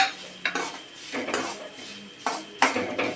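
Dried red chillies, coriander seeds and urad dal dry-roasting in a pan, heard as several distinct scrapes and clinks of a metal spoon stirring against the pan, spaced out over a soft background hiss.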